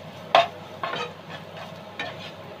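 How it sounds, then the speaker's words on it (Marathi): Turmeric being stirred into sautéed onions in a pan for a wild leafy vegetable bhaji, heard as a few brief scraping strokes over a soft sizzle, close by with no talk. "तर आता आपण याच्यामध्ये टाकणार आहोत अर्धा छोटा चमचा इतपत हळद, मिक्स करून घेऊयात एकदम व्यवस्थित"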